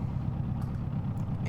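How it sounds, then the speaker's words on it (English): Rear-mounted Boxer engine car in BeamNG.drive, a steady low engine rumble droning continuously and fairly loud, with no talk. "So we have a rear-mounted Boxer engine"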